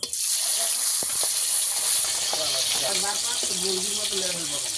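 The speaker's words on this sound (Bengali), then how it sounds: "এক পিট মাছ ভালো করে ভেজে নেব পরে উল্টে দেবো" Pieces of pomfret fish fry in hot oil, producing a loud, dense, continuous sizzle close by, with a faint voice murmuring underneath.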